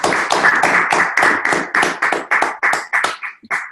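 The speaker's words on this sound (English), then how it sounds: "let's give our masterminds one last round of applause" A small audience at a live webinar gives a final round of applause, a close, sharp stretch of clapping that breaks into separate claps and trails off near the end.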